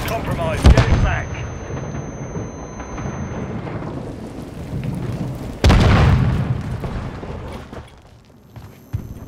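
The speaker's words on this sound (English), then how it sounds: "Throwing grenade!" Grenade blasts in Call of Duty Modern Warfare 3 multiplayer, two loud booming explosions a few seconds apart, each followed by a rumbling decay, amid battle noise and shouted voices.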